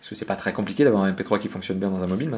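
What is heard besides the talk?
No distinct noise like a dog, phone or traffic.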